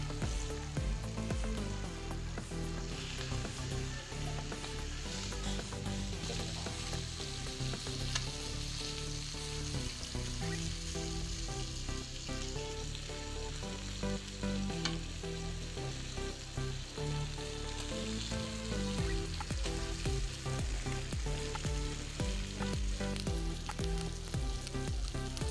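Fish frying in a pan with homemade spices, a steady, loud, dense sizzle and crackle of hot oil running continuously without pause, with no voices over it.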